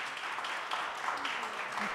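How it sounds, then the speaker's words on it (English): Applause from a conference audience for panelists at RenderATL 2023, a quiet, steady wash of many hands clapping throughout, fairly faint and distant, with faint voices briefly audible. "give our amazing panelists a round of applause"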